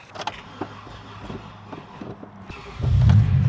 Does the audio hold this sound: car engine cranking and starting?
yes